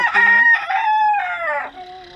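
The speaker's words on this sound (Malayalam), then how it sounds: "ഇവിടെ കുറച്ച് കോഴികൾ കാര്യങ്ങൾ കാണുന്നുണ്ട്. ഇത് ഏതൊക്കെ വെറൈറ്റി ഉണ്ട്? ഇത് കൊളംബിയൻ ബ്രഹ്മ" A Colombian Brahma rooster crows nearby, giving one full, loud, drawn-out call with several rising and falling segments, clear and alone.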